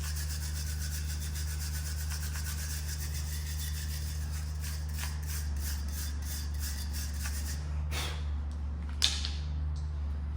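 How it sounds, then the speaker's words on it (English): A wire brush scrubs rust off an Audi front brake caliper in quick, repeated rasping strokes over a steady low hum, close up, ending with a couple of sharp metallic scrapes. "If the caliper is rusty on the inside, what we can do is just get yourself a wire brush. We're just going to clean that up."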